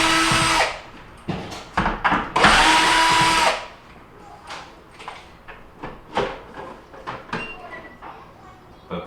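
A power drill backs out screws from the bottom panel of a Whirlpool refrigerator in a series of short whirring bursts, with a couple of longer runs early on, close and fairly loud amid clicks and handling noise.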